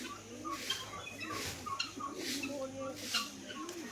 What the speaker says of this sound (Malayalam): ഇവിടെ കോഴികളുണ്ട്